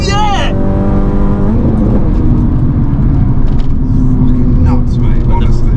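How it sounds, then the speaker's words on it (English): A Honda Civic FN2 Type R on the ECUTEK remap revs hard, a rising engine whine climbing rapidly and then cut by a flat foot shift, followed by a loud, continuous roar as it keeps accelerating. "He's all over that flat foot shift now, isn't he?"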